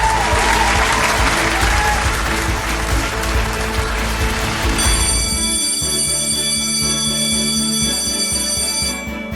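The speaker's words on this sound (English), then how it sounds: "Everyone loved your flute performance. They were all cheering for you." A crowd applauds and cheers at a flute performance inside the Roblox Brookhaven game: dense, loud clapping fills the first half, then gives way to steady tonal game music and sound effects.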